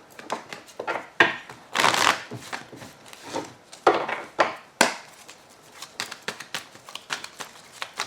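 Tarot cards being shuffled by hand, close and crisp, in irregular riffling bursts with short pauses between them, and no voices over the sound.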